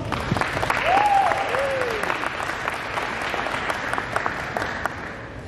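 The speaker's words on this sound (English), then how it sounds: "So can we give them a round of applause?" An audience claps for a fifth grade band's debut at a school Christmas program concert, giving steady, dense applause throughout with a brief whistle or cheer near the start.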